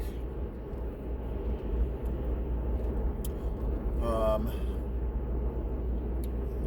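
A car drives through Maryville in East Tennessee, with a steady low road rumble all the way through. A person talks over the engine and tire noise, and a brief tone rises near the middle.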